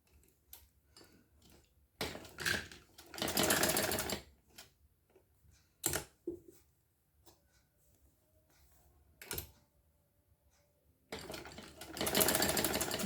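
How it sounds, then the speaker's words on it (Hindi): Sewing machine stitching a zigzag design on fabric for a sleeve, rapid clattering bursts of stitching that start and stop several times with quiet gaps between runs. "इस तरह से मैं सिलाई कर दूँगी पूरी"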